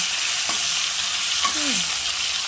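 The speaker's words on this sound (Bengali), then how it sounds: "মাছটা ভেজে তুলে রাখবো।" Rohu fish frying in a pan gives a loud, steady, close sizzle throughout, with a brief stirring clink and a faint gliding tone in the background.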